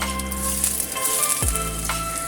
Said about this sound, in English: we heat the oil in the wok over low heat. When the oil is a little warmer, then add in ginger pieces